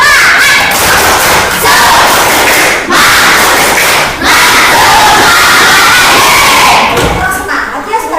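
A classroom of pupils loudly performs the tepuk semangat spirit clap chant, many young voices shouting together close by with rhythmic claps and thumps punctuating a dense, continuous group chant.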